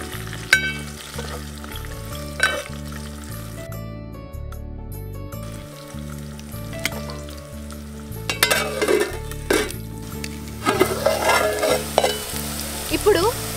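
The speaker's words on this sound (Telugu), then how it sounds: "ఉల్లిపాయలు ఎర్రగా గోలేదాకా మూత పెట్టుకోవాలి. మధ్య మధ్యలో కలుపుకుంటూ ఉండాలి" Onions fry in a pan as a continuous sizzle, with intermittent stirring scrapes and utensil knocks growing busier toward the end, close-up with no voices.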